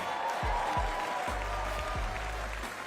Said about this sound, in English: Please give a round of applause for Secretary to the Governor, Karen Persicelli-Keogh.